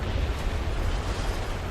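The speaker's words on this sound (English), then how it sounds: "I had the common sense to move once an unannounced explosion occurred." An artillery strike explosion in the tank game War Thunder, heard as a sustained, heavy low rumble of blast noise with no distinct onset, steady and loud throughout the short stretch.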